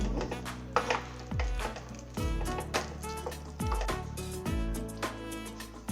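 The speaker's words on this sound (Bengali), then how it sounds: "ঘি দিয়ে একটু নাড়িয়ে দেবো" Thick homemade ginger Hajmola candy syrup is stirred in a pan after ghee is added, giving sticky, squelching scrapes and clinks in an irregular rhythm, close and fairly quiet.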